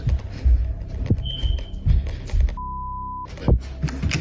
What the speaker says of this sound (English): What's that beep in her house? Is that her security alarm?